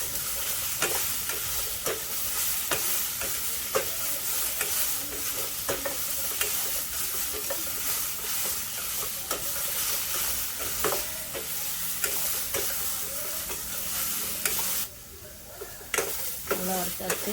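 Chutney ingredients, radish with tomato and tamarind, are stir-roasted in a pan with a steady close sizzle and regular, rhythmic spatula scrapes and taps, loud throughout, with a short quieter pause near the end and no talking.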